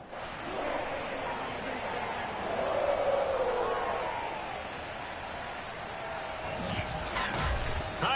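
Sold-out Cincinnati stadium crowd roaring as the Bengals take the field against the Vikings in Madden 22, a broad, steady cheering wash with a swelling middle and a commentator talking over it.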